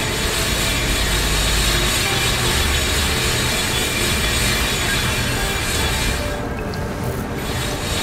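A grinder machine in the video game Mushroom 11 runs as a loud, continuous mechanical drone with a rumbling, rattling texture that holds steady throughout.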